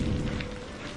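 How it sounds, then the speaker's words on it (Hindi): Continuous rain falls as a dense, steady hiss with low rumbling underneath, with no voices. "बस बारिश की लगातार ध्वनि और दूर कहीं से आती जंगली जानवरों की डरावनी"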